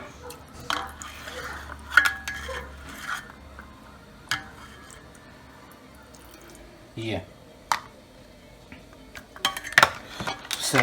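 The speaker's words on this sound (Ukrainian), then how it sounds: "Зараз я перемішую це все наше діло" Pieces of fish for khe being stirred with vinegar in a bowl: scattered clinks, scrapes and wet sloshing of utensils against dishware, fairly close, with a voice talking now and then.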